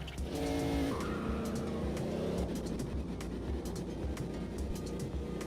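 A race car in a racing video game runs a qualifying lap, its engine droning steadily with gear changes and tyre noise throughout, no talking over it.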